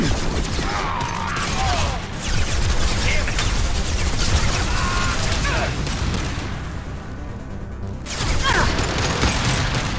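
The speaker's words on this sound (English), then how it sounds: "Firing a high-impact shot!" Gunfire from a high-impact shot in the Mass Effect 2 shooter rings out amid a loud, dense battle of overlapping shots and crashes. The noise dips briefly near the end, and a voice speaks during the fighting.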